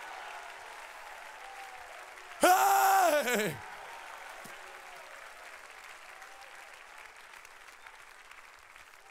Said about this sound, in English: Clap those hands and shout unto God